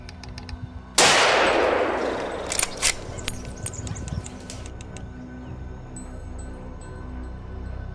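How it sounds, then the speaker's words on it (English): A single loud gunshot cracks out close by at a wild boar in a field, its blast decaying over a second, followed by a few faint clinks and birdsong. "Seizing the opportunity, I quickly opened fire and took down this boar."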